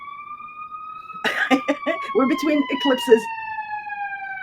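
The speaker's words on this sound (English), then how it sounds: "Oh my God, these sirens." Emergency sirens on a Chicago street hold steady, slowly falling wailing tones throughout, moderately distant, while someone talks close over them.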